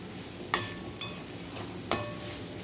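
Chitranna is sautéed and stirred in a pan, with a soft continuous sizzle broken by a few sharp scrapes and clinks of a spoon against the metal.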